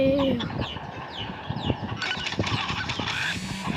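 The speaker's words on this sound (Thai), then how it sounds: "ขอโทษด้วยนะครับที่มีเสียงไก่" Chickens clucking nearby in a busy run of calls, loud and close, with no one speaking.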